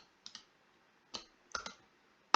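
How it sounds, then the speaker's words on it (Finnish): Right-clicking a computer mouse gives a few crisp, close clicks: a double tap, a lone click, then another quick pair, all in a quiet room with no talking. "Eli hiiren oikealla korvalla kun klikkaa"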